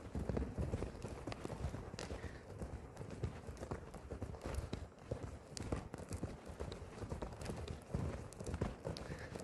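Horse hooves clip-clop at a quick, steady canter throughout, a dense rhythmic drumming close by, with faint rustling and occasional background sound.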